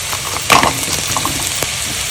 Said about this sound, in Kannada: ಈರುಳ್ಳಿ ಹಾಕ್ತಾ ಇದ್ದೀನಿ ಈರುಳ್ಳಿ ಆಗೋ ತನಕ ಬಾಡಿಸ್ಕೋಬೇಕು